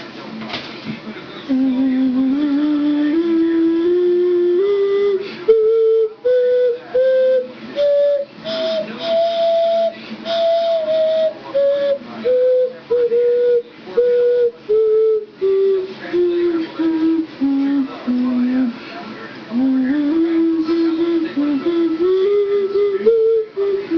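A clear, hollow twelve-hole ocarina melody, notes stepping up and down a scale with short breaths between phrases, close and loud with no talking.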